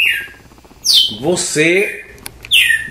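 A campina songbird, about five years old, gives bright chirps and short warbling phrases in bursts, close and clear, interleaved with someone talking over it.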